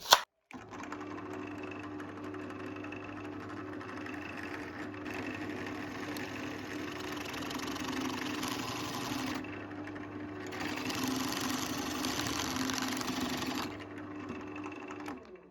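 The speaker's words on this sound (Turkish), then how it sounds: "Şimdi bu parçayı böyle deldik." An electric drill bores a hole in a wooden part for a decorative bicycle model, giving a steady whirring motor drone at moderate volume for about fifteen seconds that strains slightly louder near the end.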